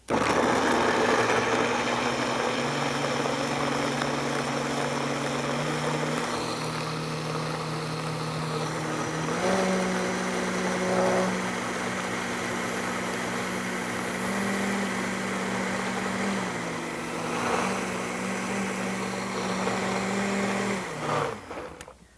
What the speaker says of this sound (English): And then I'm going to blend it. You can really blend this up.